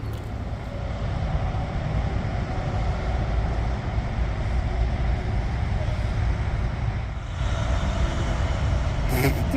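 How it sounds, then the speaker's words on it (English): A truck idling and rumbling at a road intersection, a steady loud low engine drone that continues throughout, with passing traffic and a brief rattle near the end. "there's a truck running on the intersection."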